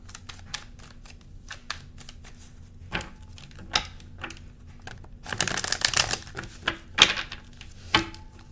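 Tarot cards are shuffled and pulled close by, making a series of sharp, crisp snaps and flicks spaced irregularly, with a denser burst of riffling in the middle, and no talking.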